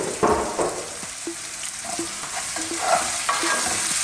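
Broccoli and onions fry in a pan for a creamy broccoli mushroom pasta, a soft sizzle under repeated close scrapes and knocks of a utensil stirring the pieces around, with no talking.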